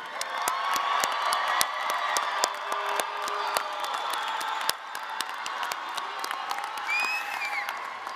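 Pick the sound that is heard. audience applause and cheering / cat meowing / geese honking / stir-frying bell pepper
audience applause and cheering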